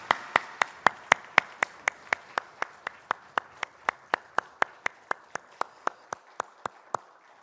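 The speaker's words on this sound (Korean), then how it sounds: "하나님께 영광의 박수를 올려드리겠습니다" A church service congregation clapping together in a steady, even rhythm, about three claps per second, with roughly two dozen sharp claps that fade slightly toward the end, and no talk.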